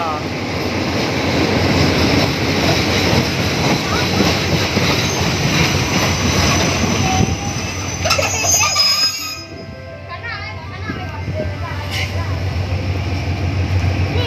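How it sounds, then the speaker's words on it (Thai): A train rolls past at Surat Thani, Thailand, with a loud, sustained rumble, clattering wheels and brief metallic squeals, then fades a little near the end; excited voices speak over the passing cars. "มาเร็วเร็วเร็วมาดูรถไฟ รถไฟที่สุราษฎร์ธานี"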